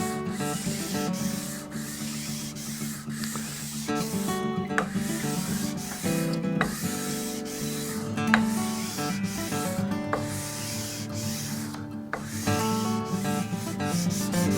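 A guitar fretboard being sanded by hand with fine-grit sandpaper, steps from 600 up to 2000 grit, gives a steady, close scratchy rubbing that runs continuously with repeated back-and-forth strokes.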